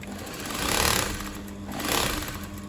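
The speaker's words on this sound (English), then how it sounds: "then you stitch the neck" A sewing machine stitching the neckline of a pleated off-shoulder top, a steady close mechanical whir that swells twice in short bursts.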